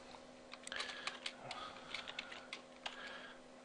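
Quick, light key taps on a computer keyboard in short irregular bursts, clicks close and crisp over a steady low hum, with no talking.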